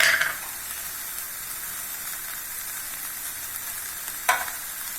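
Salted vegetables sauté in a hot pan for a momos filling, a steady close sizzle and hiss throughout with a couple of brief louder crackles as they are stirred.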